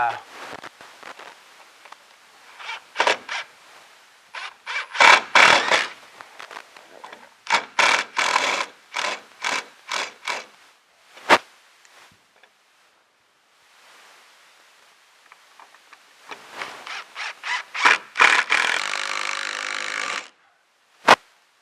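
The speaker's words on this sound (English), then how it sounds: "I'm going to go ahead and just drive these up into the ceiling in place" A power driver sends long decking screws up into a ceiling, giving bursts of whirring and grinding that start and stop repeatedly, close and fairly loud, with a longer run near the end and brief talk between.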